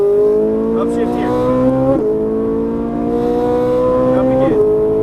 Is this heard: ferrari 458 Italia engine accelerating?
yes